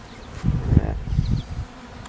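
Low, uneven buzzing of bees swells and fades in short bursts, close to the ear, with no voices.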